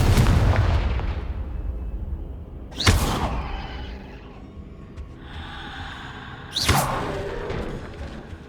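Incendio and Confringo spell blasts in the Hogwarts Legacy video game: two sharp whooshing bursts a few seconds apart, each fading into a crackling tail over low background rumble.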